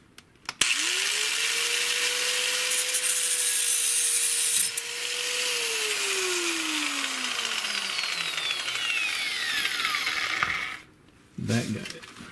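An angle grinder cuts through an exhaust pipe during a Jeep Cherokee XJ 4.6 stroker turbo swap, a loud sustained whine that spins up, holds, then winds down, followed by a short clank.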